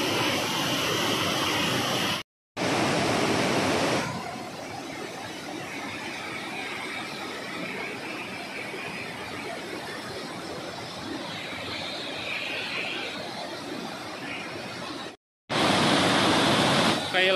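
The swollen Cikembang river rushes loudly in a dense, steady roar that runs nearly unbroken, with brief cuts in between.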